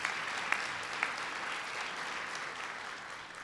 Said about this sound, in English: a round of applause for Sylvia and Steve